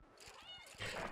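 A cartoonish cat in the puzzle game A Little to the Left gives a short, faint meow, followed by a brief burst of louder noise.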